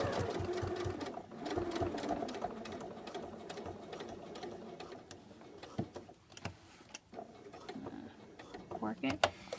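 A sewing machine stitches around a collar curve in short bursts of rapid mechanical whirring and ticking, stopping and restarting, close up, with a quiet voice in between.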